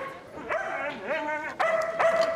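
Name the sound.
dog barking and whimpering in a film excerpt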